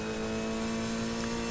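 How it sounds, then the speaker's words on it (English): Inside a race car lapping Mugello at dusk, a steady, sustained engine drone with strong fixed tones fills the cockpit for a brief moment, loud and close. "even though you have the noise of the car"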